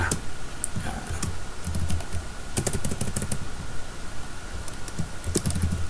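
Fast, steady typing on a computer keyboard, close and crisp, with irregular clusters of key clicks and a few louder taps running throughout.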